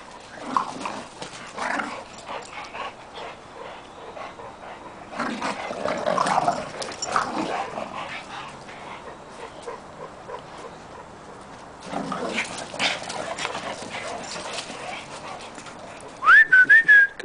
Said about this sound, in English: It's a little puppy.